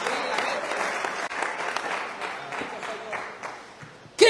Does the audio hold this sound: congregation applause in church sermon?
yes